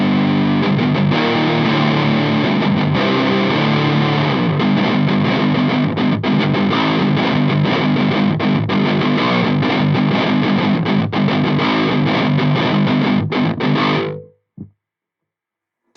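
An electric guitar plays through Belcat distortion and Precision Drive clone pedals with distortion set at half, giving loud, thick, continuous overdriven riffing that cuts off abruptly near the end.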